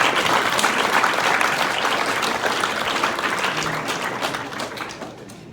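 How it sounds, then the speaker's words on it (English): Crowd at an after-prom hypnotist show applauds loudly, a dense wash of clapping that peaks early and then gradually tapers off toward the end. "Let's give them a big round of applause."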